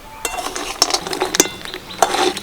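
A spoon stirs sugar and batasha as they melt in a pan on low heat while making spicy mango pickle, producing scattered metallic scrapes and clinks against the pan over a faint background.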